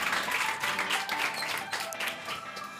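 A live audience claps to welcome a host onstage, a sustained patter of many hands at moderate volume that swells and then eases slightly toward the end, with no voices over it.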